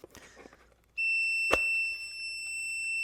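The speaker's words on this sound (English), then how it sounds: "Okay, why is it beeping?" An AUTOONE 4000A car jump starter gives off a steady high-pitched electronic beep that starts abruptly and holds continuously, with a sharp click partway through and faint handling noise before it.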